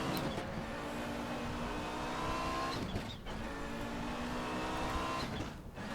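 An Audi 90 Quattro IMSA GTO turbo engine in Raceroom Racing Experience, revving hard and climbing in pitch with a brief dip around gear changes, loud and continuous with a faint tire squeal.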